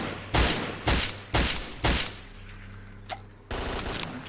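Video game gunfire in STALKER: four loud, evenly spaced bursts of shots close up, then a quieter pause with a faint click before another heavy burst of fire.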